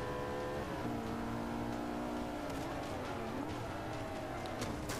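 A Lamborghini Gallardo, a rear-wheel-drive car in the video game Forza Motorsport 5, drones with a steady engine note that climbs and shifts in pitch as it accelerates, moderately loud throughout.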